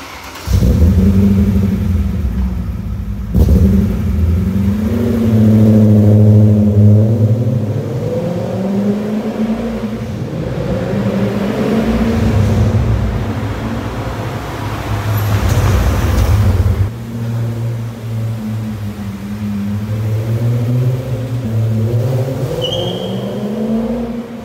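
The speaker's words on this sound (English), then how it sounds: "what better place than in this parking garage to allow you to hear what this V8 actually sounds like" BMW M5 with a 4.9-liter V8 and aftermarket Eisenmann exhaust revving inside a parking garage, a loud, deep, rolling grumble that swells and falls through repeated throttle blips, echoing and sustained throughout.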